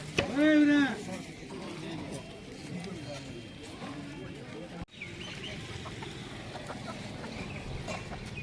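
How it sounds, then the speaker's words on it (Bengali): Native chickens at the Chaknagar village market: a rooster crows loudly at the start, then faint clucking sits under steady market bustle and people talking nearby. "আমরা কিছু দেশি মুরগি দেখতে পাচ্ছি"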